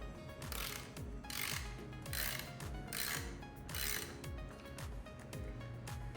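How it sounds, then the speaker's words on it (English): A large ratchet with a 24mm socket loosening the PCV valve on a 2019-2024 Nissan Versa 1.6L, its pawl clicking rapidly in repeated back-and-forth bursts, close up with no talking. "So here's your 24mm socket with a large ratchet."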